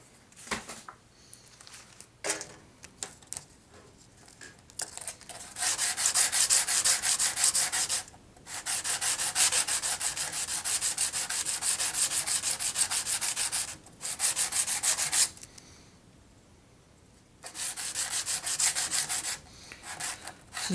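A guitar part is sanded by hand to remove 80 grit scratches, a steady close scratchy rubbing in long strokes broken by brief pauses.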